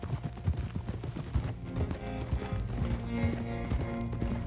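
Clip-clop of horse hooves in Red Dead Redemption 2 while stealing a horse, a steady rhythmic trot mixed with mechanical clanking and layered game ambience and music, no talk.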